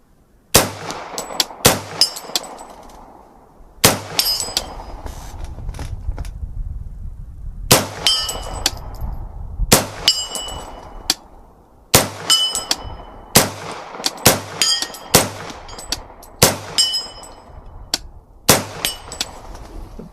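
A CMMG Banshee 45 fires repeated shots at steel targets 50 yards away, each sharp report followed by a bright metallic clang. The shots come in an irregular string, some close together and some spaced out, loud and without talk.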